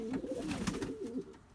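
Pigeons coo softly in a loft with young birds, a low rolling, repeated cooing heard close by with no talk.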